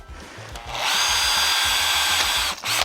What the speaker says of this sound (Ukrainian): І йдемо свердлитись.